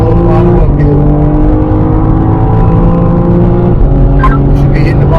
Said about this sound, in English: Squeeze on power, guys. Full throttle uphill, full throttle uphill.